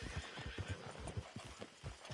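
Horse hooves clip-clop in a quick uneven rhythm in Red Dead Redemption 2, with a soft whinny mixed in, heard fairly faint against the game's background ambience with no talk.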